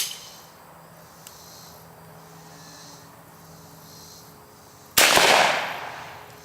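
A shotgun fires once at a target 30 yards away, one sharp loud blast that fades over about a second, after a quiet outdoor stretch with crickets chirping.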